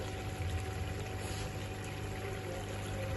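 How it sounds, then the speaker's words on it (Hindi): Water being poured into a pot of Peshawari chicken korma on the stove, a steady splashing pour over a low hum, close and without voices. "पानी थोड़ा सा डाल देंगे"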